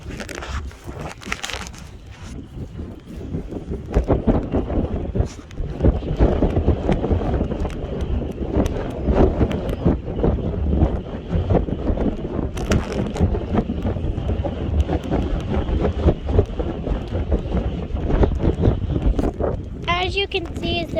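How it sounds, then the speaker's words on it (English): Strong wind buffets outdoors beside a fallen beehive, a constant rough roar and rumble of gusts hitting the microphone with crackling bursts, while a person talks over it. "It's so windy."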